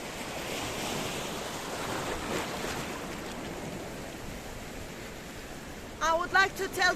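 Mediterranean Sea waves wash steadily against volcanic rocks on the coast at Chloraka, Paphos, Cyprus, in a broad, rushing roar, with wind noise, before a few words of speech cut in at the end.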